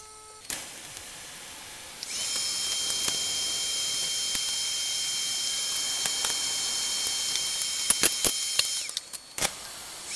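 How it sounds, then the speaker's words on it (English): A welder runs on a turbo log manifold to fix nuts and bolts in place, a steady close hiss and crackle lasting about seven seconds, framed by sharp clicks and ticks before and after. "Okay, I have the nuts and bolts put in place so I can weld them on the back side."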